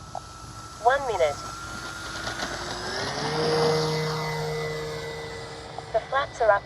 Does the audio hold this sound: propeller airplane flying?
yes